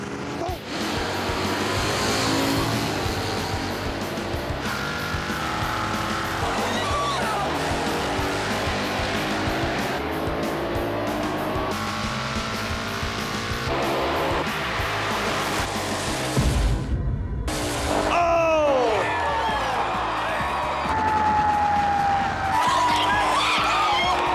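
A 1991 Mustang and a 1973 Duster in a drag race at a dragway, engines roaring loud and continuous with tire noise and a brief squealing burst late on, an announcer talking over much of it.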